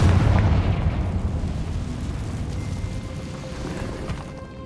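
Confringo spell blast in Hogwarts Legacy, a loud booming burst at the start that rolls off into a long rumbling, fading tail with no voices.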